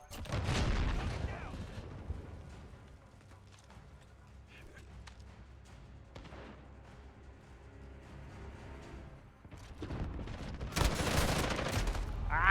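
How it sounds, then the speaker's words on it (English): Gunfire in Call of Duty: Modern Warfare, a first-person shooter game: loud dense bursts open the stretch and return near the end, with quieter scattered shots and game noise between. "I was shooting into the wall."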